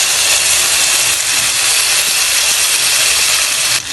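Ginger garlic paste hits hot oil in a pan of toasted whole spices, including fennel, for an egg korma, giving a loud, steady broadband sizzle and hiss that runs unbroken throughout with no voices.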